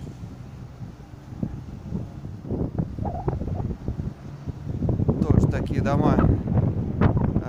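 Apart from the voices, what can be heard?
strong cold wind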